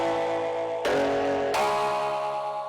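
Metallic cowbell synth tones for a phonk track, held as long sustained notes, changing pitch twice with bright ringing attacks.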